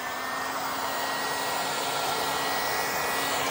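A heat tool blows steadily on red resin colour powder, producing a loud, close, unbroken hot-air roar that holds even for the few seconds heard, with no talking.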